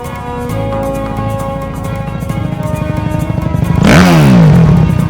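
A racing motorcycle engine idles with a steady harmonic drone, then revs up sharply in a loud rising sweep near the end, close and alone.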